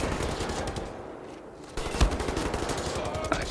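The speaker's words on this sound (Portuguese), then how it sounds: "Tem mais alguém atirando." Gunfire in the shooter video game Wolfenstein: The New Order, rapid bursts and single shots rattling over a dense, noisy game soundscape, with one sharp close report in the middle.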